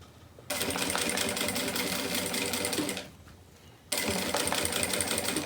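A sewing machine stitches a silicone beach bag in two close, loud runs of rapid mechanical chatter, separated by a brief pause near the middle.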